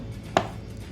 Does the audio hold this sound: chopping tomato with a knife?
yes